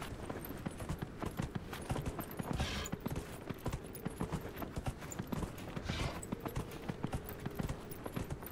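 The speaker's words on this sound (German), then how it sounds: "Von daher reiten wir erstmal in diese Richtung." Horse hooves clip-clopping while riding across open terrain in Dragon Age: Inquisition: a steady, rhythmic gallop of repeated hoofbeats runs throughout at moderate loudness, with a faint ambient wash beneath.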